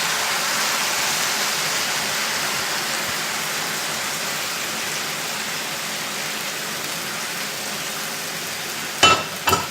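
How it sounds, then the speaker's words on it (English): Crushed diced tomatoes pour steadily into a cooking pot, giving a continuous wet, rushing hiss at close range, followed near the end by a couple of brief sharp clatters. "now what we're gonna do now is we're gonna put the rest of the crushed diced tomatoes"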